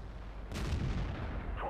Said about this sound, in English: Oh, and it's their tier 9 artillery as well.